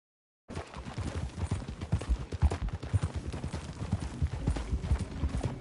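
Horse hooves clip-clop steadily at a trot in Red Dead Redemption 2, a continuous rhythmic clatter of hoofbeats heard close and fairly quiet after a short silence.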